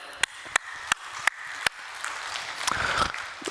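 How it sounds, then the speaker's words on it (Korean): A church congregation at a Wednesday prayer meeting claps: five sharp, evenly spaced unison claps ring out, then dissolve into a looser, quieter spread of scattered applause. "우리 서로를 위해서 박수 한번 하실까요?"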